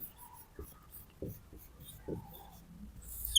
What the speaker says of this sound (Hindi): पहले एक बार इसका भी लिख दे रहा हूं, विजाति।